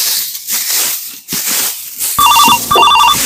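A telephone ringtone starts partway through, loud and near, in two repeated electronic melodic bursts after a stretch of hissy, noisy background.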